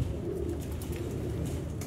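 Chuhe breed pigeons cooing, with low throaty coos rolling steadily close by over a background hum, without voices.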